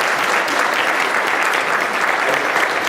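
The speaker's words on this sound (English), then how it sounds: "give all of these staff members a round of applause" An audience at an Atlanta Board of Education community meeting applauds school staff with steady, dense clapping throughout, loud and close.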